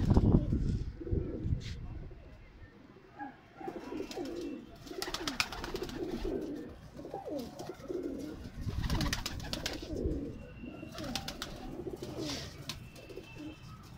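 Pigeons coo softly and repeatedly nearby on a rooftop in Lahore, with faint chirps and rustling; a voice talks quietly underneath at times.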